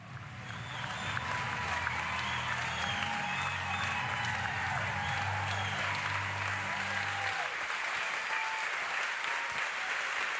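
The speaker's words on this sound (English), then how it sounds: "Would you all do me a big round of applause for Candace Owens" An audience at a Catholic gathering breaks into a big round of applause that stays loud and steady for about seven seconds, with a low hum beneath it that cuts off partway through.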